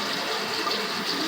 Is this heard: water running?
yes